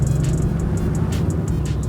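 A car drives past with a steady low engine rumble and tire hiss, while faint rhythmic clicks repeat in the background.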